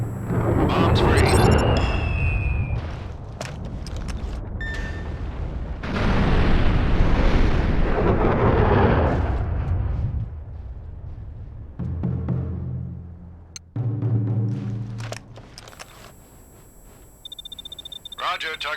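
Bomb explosions in the video game Mercenaries: Playground of Destruction, loud sustained rumbling blasts with booming bursts that fade into debris and crackle, overlaid by radio-style game voices talking.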